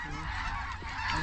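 Canada geese honk over a field during a sunrise waterfowl hunt, a dense chorus of overlapping calls that stays loud and steady throughout, with no talking.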